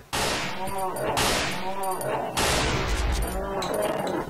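Loud bursts of close gunfire in the horror game Cry of Fear crack out in three or four sharp volleys, each fading into a ringing tail, with a rapid clatter in between.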